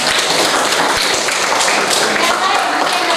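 Students in a classroom clap together, a dense, steady burst of hand claps at close range that continues throughout, with voices mixed in.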